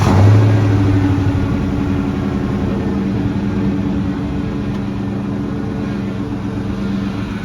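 A Ford Mustang GT being driven on errands gives a loud, steady engine drone from inside the car, with a brief rev at the start before settling into a constant cruise.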